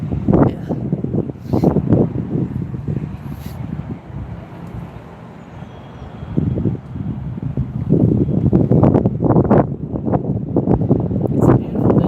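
Wind gusts rush and buffet an outdoor microphone on a bright day outside a church protest, rising and falling in loud broadband waves over about twelve seconds with no clear speech.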